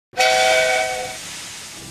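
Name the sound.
person whistling imitating a steam train whistle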